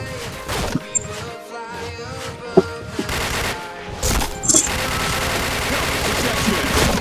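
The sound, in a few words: gunfire in a shooting video game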